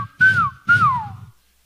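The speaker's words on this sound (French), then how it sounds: "Ici à Tupoué, on sait siffler." Two loud whistled notes from people at Tupoué on Tubuai, each a bright rising-then-falling glide lasting about half a second, separated by a short gap and heard alone without talk.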